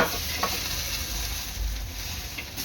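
Crab pieces frying in a pan with a steady, continuous sizzle and occasional soft clinks of stirring, close and moderately loud, with no talking.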